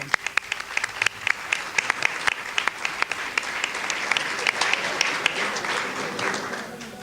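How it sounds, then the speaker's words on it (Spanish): A crowd applauds with dense, steady clapping that builds and holds for several seconds, with sharp individual claps standing out early on. "un aplauso en serio para la Procuración"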